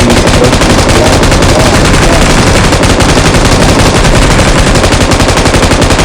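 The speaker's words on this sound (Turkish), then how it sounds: "Bak M2'yi dinle şimdi bak" Sustained heavy M2 machine gun fire in a video game, a rapid, unbroken stream of loud shots, dense and continuous throughout.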